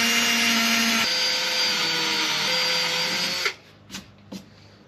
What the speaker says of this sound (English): now that I have this cut out, I'm gonna get those holes drilled and then get them on there